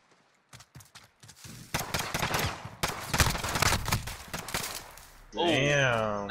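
Rapid gunfire in a 2vs2 video game gunfight, bursts of sharp shots and automatic fire that start sparse and quickly thicken into dense volleys, ending with a sustained tonal game effect.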